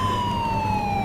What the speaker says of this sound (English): You turn your sirens on.